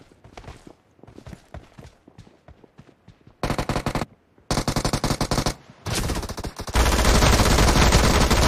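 Gunfire in a shooter video game team deathmatch on a library map, M24 sniper rifle among the weapons: scattered soft shots and steps at first, then loud sustained bursts of automatic fire in several blocks, ending in continuous heavy shooting.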